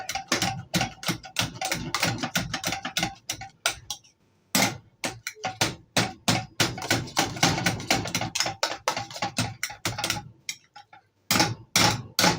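Boiled vegetables, including carrots, are mashed with a big masher in a pot, producing fast repeated thumping and clattering strokes that are loud and close, with two short pauses along the way.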